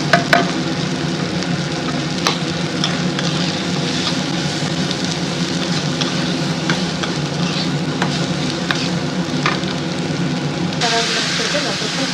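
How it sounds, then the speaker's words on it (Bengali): Paneer bhurji fries in a pan while being stirred, a steady close sizzle with scraping stirs and occasional sharp clicks of a utensil, with a voice talking at times. "এবার এটাকে খুব ভালোভাবে ভেজে দেবো।"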